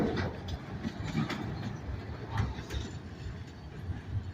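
A freight train with auto rack cars rolls past in Abbeville with rumbling and rhythmic clattering of wheels, fairly steady and moderately loud, with occasional metallic clanks.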